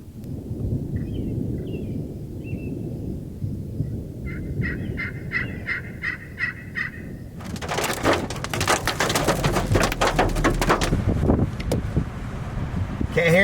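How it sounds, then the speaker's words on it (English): A wild turkey gobbles in rattling bursts at a distance during a thunderstorm in Nebraska, followed by rumbling wind and thunder that swells louder. "Got a turkey gobbling."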